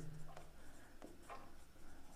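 Faint, brief scratching strokes on a board during a maths lesson, a few separate marks at uneven intervals over a soft background hiss with no voice.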